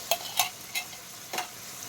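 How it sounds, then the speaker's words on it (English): Cream of mushroom soup is stirred into shepherd's pie filling in a pan, with four quick spoon scrapes against the cookware over a faint sizzle. "I'm just going to get this nice and stirred up"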